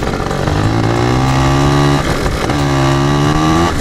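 Small Piwi 80cc motorbike engine revving hard in two long bursts, pitch climbing and holding with a brief dip between, loud and close as its smooth, worn rear tyre slips for grip.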